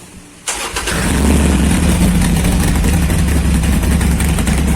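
A motorcycle engine, freshly tuned with a FuelPak 3 module and warming up, cranks and catches, then settles into a loud, steady rumble with slight revving, close by and with no one speaking.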